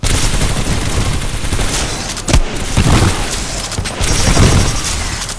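Heavy gunfire in the Titanfall 2 campaign: loud, dense bursts of shots and booming impacts rattle on continuously, with brief sharp cracks standing out over the sustained barrage.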